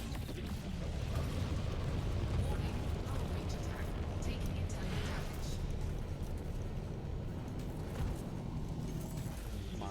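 A missile explodes in the space game Elite Dangerous, a deep rolling boom and crackling rumble that stays dense and fairly quiet for several seconds, with no voices over it.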